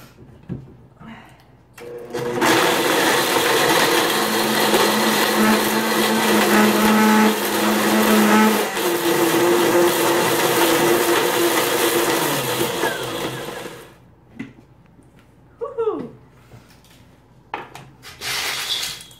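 A blender grinds dried tomatoes loudly for about eleven seconds, its motor whine shifting in pitch, then stops, leaving a few clinks and short noises.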